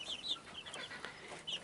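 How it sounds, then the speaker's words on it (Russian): Young chickens, chicks being watched for pecking injuries, cheep and cluck softly in a quiet coop, with several short high peeps spread across a low background hum. "Следите за вашими цыплятами."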